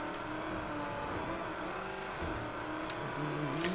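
A car engine drones steadily in the Mad Max video game, a continuous close motor roar with some revving across the whole stretch.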